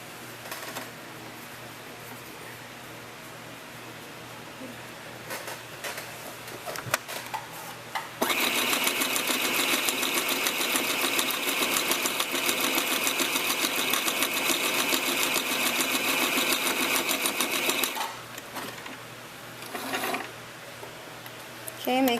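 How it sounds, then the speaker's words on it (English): A sewing machine stitches along the edging of a tutu purse, a loud steady mechanical whir lasting about ten seconds, framed by quieter handling noises and faint room sound before and after. "what I do is just sew along the edging here"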